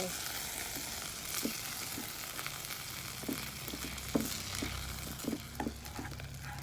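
Butter and fat from meat sizzle and spit steadily in a hot Teflon pan while making burgers, with scattered sharp pops and crackles over a constant frying hiss.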